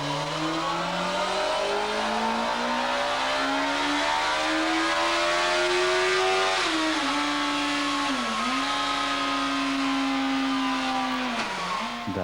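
A Yamaha R1 motorcycle engine revs loudly and continuously. Its pitch climbs and dips again and again over about twelve seconds.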